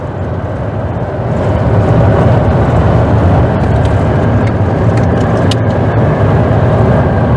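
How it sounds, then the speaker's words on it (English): A car drives along with its windshield raised against the wind, giving a steady, loud low rumble of engine and road noise mixed with rushing air that holds constant throughout. "We're driving with the windshield up to block the wind for you"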